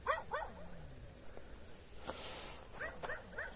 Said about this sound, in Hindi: सामने कोई कुत्ता है जो इधर को देख के जो है ना उस वक्त से भौंक रहा है